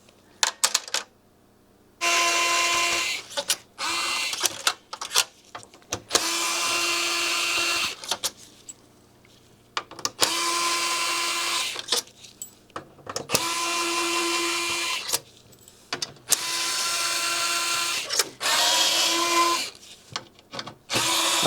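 Power screwdriver backing out Torx screws from an Xbox 360, repeated whirring bursts of a few seconds each, separated by short pauses and small handling clicks.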